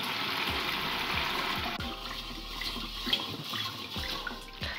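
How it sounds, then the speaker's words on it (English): Tap water runs steadily into a rice cooker's inner pot while rice is washed by hand, a continuous broadband splashing rush with a few soft low thumps and swishes, close and fairly loud, no voices. "好，那现在要洗米咯，就用一般的水 use normal water"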